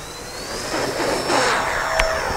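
Twin-motor E-flite EC-1500 RC airplane taking off from grass, its electric motors giving a steady, loud high-pitched whine that builds slightly as it rolls, with no talk over it.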